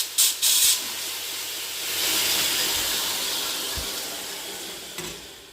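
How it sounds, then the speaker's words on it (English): A belt sander grinds a Damascus steel pocket knife blade, giving a loud, sustained abrasive hiss close by, with a few brief bursts at the start and slight swells in intensity. "Well, that's the belt sander."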